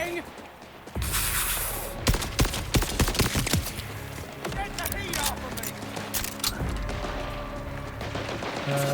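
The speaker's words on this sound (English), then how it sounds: "Who's shooting me?" Gunfire in the open-world shooter Borderlands 4: a burst of rapid shots and impacts early on, followed by scattered cracks and clatter amid busy game sound, with a person talking throughout.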